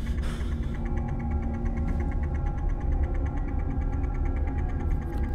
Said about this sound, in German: Das ist der Zug.